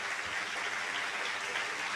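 A church congregation applauding the Lord at a celebration, steady dense clapping filling the whole moment without a break.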